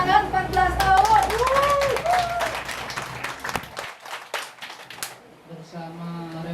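Audience clapping at a small school gathering under a Jakarta toll road, a burst of applause with mixed voices and whoops that thins out after a few seconds, with people talking over it.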